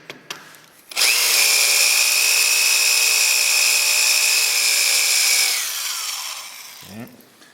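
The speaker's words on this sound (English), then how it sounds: "this high-speed drill and being able to lean on it pretty good make for pretty quick drilling" A high-speed power drill boring through aluminum plate whines loudly and steadily for about five seconds, then slows and stops, with faint rustling before and after.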